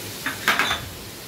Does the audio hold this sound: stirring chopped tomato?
yes